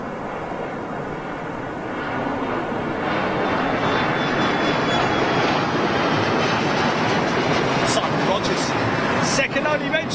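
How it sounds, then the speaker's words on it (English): A small private jet takes off from Gatwick Airport and passes straight overhead, a steady, swelling roar that grows louder and holds for several seconds. "Little private jet going out straight over the top of us."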